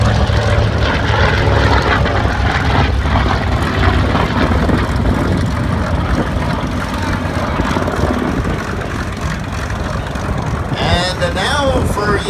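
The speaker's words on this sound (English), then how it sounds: "Bringing up the gear right now, our TBM Avenger," A TBM Avenger warbird flies past at an air show with its landing gear up, its loud propeller engine droning steadily throughout, and an announcer talks over it near the end.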